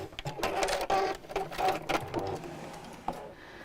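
A sewing machine stitches the seam of a fabric gift bag in a steady, close run of rapid needle bursts with brief pauses between them, alone without talk.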